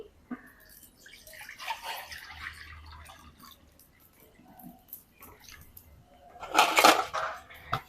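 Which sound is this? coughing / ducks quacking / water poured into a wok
water poured into a wok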